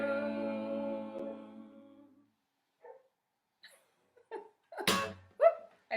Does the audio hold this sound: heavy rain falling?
no